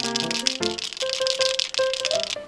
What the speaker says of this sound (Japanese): まずペンを振ります。